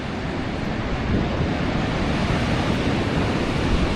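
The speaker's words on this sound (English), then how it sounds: "The ocean is so rough. I think Cannon Beach is known for a pretty rough ocean." Rough ocean surf at Cannon Beach, Oregon, a dense broadband roar of breaking waves mixed with wind buffeting the microphone, loud and continuous with a slight swell partway through.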